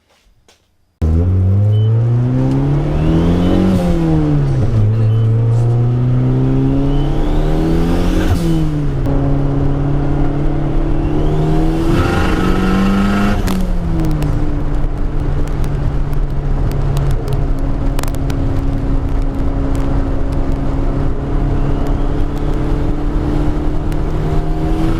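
A Toyota car fitted with aftermarket coil-on-plug ignition starts up and drives off on a test drive, its engine loud and close, revving up and easing off through several gear changes before settling into a steady cruising drone.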